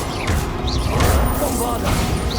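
The Expelliarmus disarming spell being cast in Hogwarts Legacy: a few quick crashing, whooshing magical bursts over a busy battle background, with a voice briefly heard.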